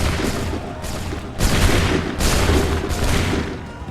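Ship cannons in Assassin's Creed III fire in repeated broadside volleys, loud booming bursts arriving about every second and a half and layered over a continuous rumbling din.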